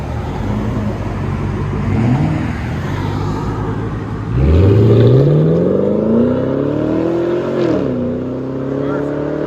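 Chevy Camaro SS with a 6.2L V8 and straight-pipe or Dynomax exhaust idles with a deep rumble, then revs hard at about four seconds, pitch sweeping up and falling back, loud and close, with people talking faintly underneath.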